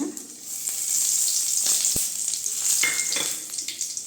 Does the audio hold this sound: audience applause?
no